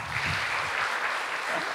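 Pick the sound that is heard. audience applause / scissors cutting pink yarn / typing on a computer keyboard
audience applause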